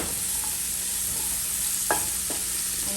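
Onion and garlic sautéing in a pan, a steady close sizzle with a couple of brief scraping stirs of a utensil near the end, no talk.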